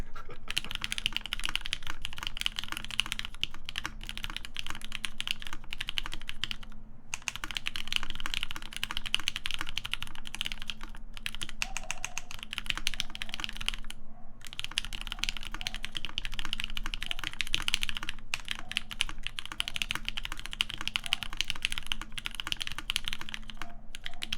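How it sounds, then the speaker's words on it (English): Fast typing clatters on a computer keyboard during a live build stream, a dense run of close keystrokes that goes on for over twenty seconds with only a few brief pauses and no talking. "I would like to think my keyboard sounds nicer than Albee's"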